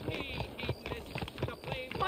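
Horses' hooves clop in Red Dead Redemption with a quick, even rhythm, fairly quiet and steady, while characters' voices speak over the gait.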